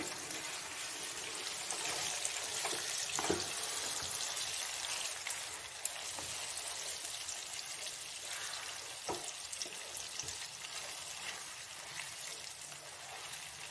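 Marinated meat sizzles steadily in a pan, a fairly faint, even hiss with a few soft scraping knocks as it is stirred.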